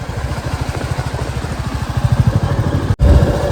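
Motorcycle cruising smoothly on a paved mountain road in the Spiti Valley heading toward Manali, a loud steady engine pulse with rapid regular throbbing close up, plus a brief dropout near the end.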